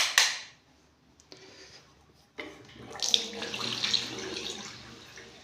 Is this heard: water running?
yes